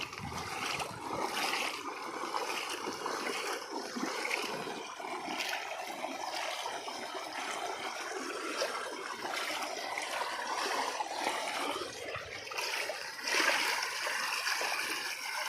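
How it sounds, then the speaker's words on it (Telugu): Rainwater flows steadily over a flooded rice paddy, washing across newly planted seedlings in a continuous, gushing splash that stays fairly even throughout, with no voices. "నాటు మీద నుంచి వాటర్ పోతున్నాయి"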